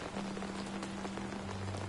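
Steady rain patters across a dark city alley in the Batman: The Telltale Series video game, a dense, even hiss of drops striking surfaces with a faint low hum beneath and no talking.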